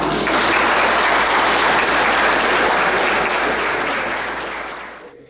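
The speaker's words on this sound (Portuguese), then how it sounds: "Uma salva de palmas para vocês." Loud, dense audience applause at a Portuguese-language coaching event, many hands clapping in a sustained wash that holds steady for several seconds before fading out near the end.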